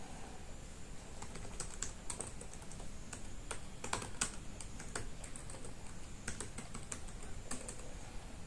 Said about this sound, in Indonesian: saya akan ngetes ketik